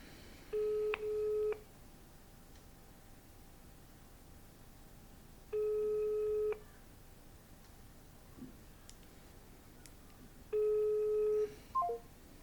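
A telephone on a cold call gives three evenly spaced ringback tones, each about a second long and several seconds apart, faint over a quiet background hiss.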